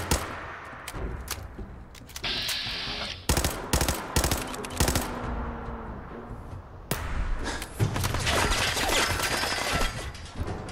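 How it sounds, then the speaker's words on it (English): Enemy gunfire in the VR game Fallout 4 comes as loud, sharp cracks in bursts and single shots, some close and some farther off, over a busy layer of game noise and impacts. "I don't know where they're shooting me from"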